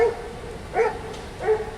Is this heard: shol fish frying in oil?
no